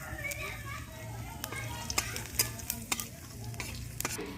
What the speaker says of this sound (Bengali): প্রথমেই ফোড়নে দিয়ে দেব কয়েকটা শুকনো লঙ্কা আর কিছুটা তেজপাতা দিয়ে দেবো কিছুটা গোটা জিরে